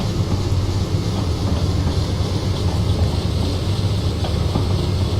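A WP U30B American diesel locomotive in Train Simulator, Feather River Canyon route, gives a steady low rumbling engine drone with constant running noise throughout, no talk.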